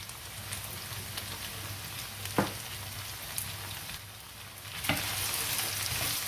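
Potatoes and onions fry gently in a pan with a soft continuous sizzle, punctuated by a few sharp utensil scrapes as they are stirred, fairly quiet and close.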